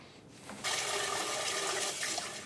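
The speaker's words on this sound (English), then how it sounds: "Now I have to wash my hands." Tap water runs steadily as hands are washed under it in a kitchen, a continuous close hiss and splash that starts abruptly and holds for a couple of seconds.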